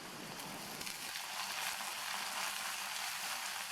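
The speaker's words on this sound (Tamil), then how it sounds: "இப்போ இந்த சுண்டைக்காயை நல்லா எண்ணெயிலேயே வதக்கி விட்டுக்கணும்." Buttermilk-soaked turkey berries, sautéing in oil with garlic for a village-style kuzhambu, give a soft, steady sizzle that stays quiet and even, with no talking.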